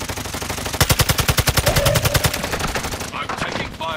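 Rapid automatic gunfire rings out in Call of Duty Warzone, a fast, evenly spaced burst of close, loud shots lasting about two seconds, followed by scattered combat noise and faint voices.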